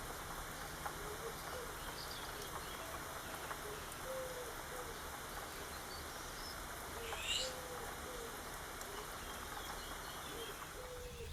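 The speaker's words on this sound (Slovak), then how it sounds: "Obloha sa zatiahla, asi z toho bude dážď." Rain falls outdoors by a balcony with a steady, hissing patter. Occasional faint bird calls come through the wash, and one brief call rises slightly louder near the end.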